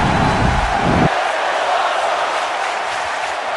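A loud wrestling arena crowd at an NXT show roars on its feet, a dense continuous wash of cheering that stays strong throughout, with a heavy low rumble dropping away after the first second.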